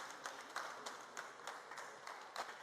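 Applause greeting the Prime Minister's arrival at the presidential palace, a crowd clapping at a distance with a few sharper individual claps standing out, fairly faint and continuous.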